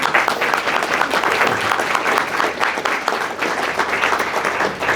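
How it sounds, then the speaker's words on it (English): Sustained audience applause fills a college Hall of Fame induction ceremony, a dense, steady wash of many hands clapping at even loudness throughout with no talk over it. "Please join me in an applause."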